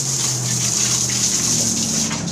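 Running water gushing steadily from a tap or hose as a dog bites at it, a loud continuous splashing stream.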